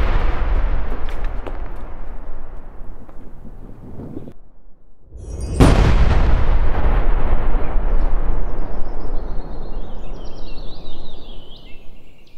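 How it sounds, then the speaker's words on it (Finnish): A hand grenade detonated inside a closed armoured box packed with 20 kg of wheat flour, a loud booming blast that briefly drops out and then surges into a long, heavy roaring rumble. "me tehdään sellainen käsikranaattiräjähdys, että meillä on käkkäri, mikä ympäri vaan sitten laitetaan 20 kiloa vehnäjauhoja. Räjäytetään."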